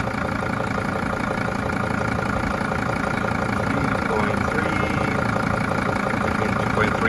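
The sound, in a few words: Mercedes T1N Sprinter engine idling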